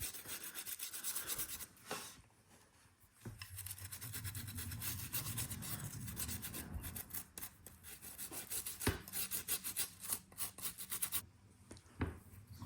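A stag-antler handle on an old Red Cross pocketknife is rubbed by hand, giving steady close dry rasping strokes with brief pauses, no talk.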